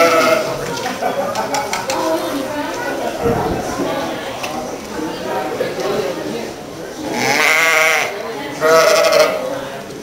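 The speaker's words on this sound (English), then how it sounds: "Icelandic sheep." Icelandic sheep at a sheep and wool show bleat twice in fairly loud, drawn-out calls near the end, over a busy backdrop of crowd chatter and people talking nearby.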